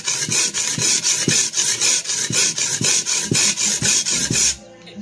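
A 3 Ram #1 cleaver blade scraped back and forth across a sharpening stone in a steady rhythm of about ten gritty, rasping strokes, close and loud, stopping abruptly near the end.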